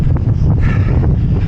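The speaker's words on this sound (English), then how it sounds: "It's so fucking windy." Strong gusting wind buffets the microphone on a seafront during a half marathon, a loud continuous low roar with brief rustling swells.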